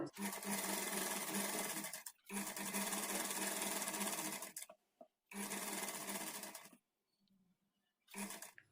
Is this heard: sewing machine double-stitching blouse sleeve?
yes